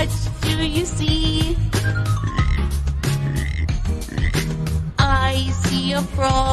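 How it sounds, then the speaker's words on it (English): Frog croaking in a nursery-rhyme animal-sound song, repeated ribbit-like croaks riding over bright children's music, loud and rhythmic. "I see a frog. Ribbit, ribbit, ribbit."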